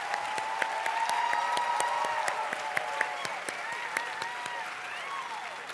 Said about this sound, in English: I would like to ask you to give a round of applause to all of our graduates in the humanities.